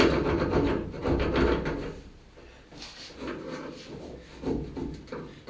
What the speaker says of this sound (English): Just go in there and scrape the stuff out.